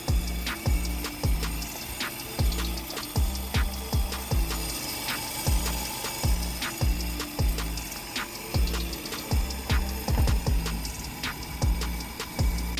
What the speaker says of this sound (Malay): jawapan dia adalah compressor plate